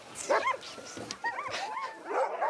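A happy, athletic female sled dog before a race in the Yukon, giving several short yips, whines and whimpers in quick bursts, close and moderately loud.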